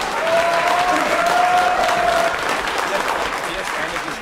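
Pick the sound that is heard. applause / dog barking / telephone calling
applause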